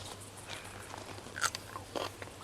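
A crisp bite into a crunchy homegrown bean grown in a milk bottle, heard as a sharp close crack followed by a second smaller crunch over a quiet background hum.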